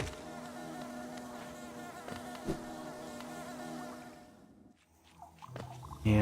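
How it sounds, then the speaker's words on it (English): Bees buzz in Hollow Knight, a continuous droning hum with a faint crackle that holds steady for several seconds and then fades to near silence. "Past these bees."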